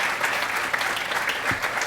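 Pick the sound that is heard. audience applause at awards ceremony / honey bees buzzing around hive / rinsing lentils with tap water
audience applause at awards ceremony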